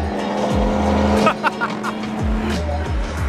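A 500 hp widebody BMW M2 F87 roars loudly, its engine revving up and down through repeated shifts, with mid-clip popping crackles and people talking over it.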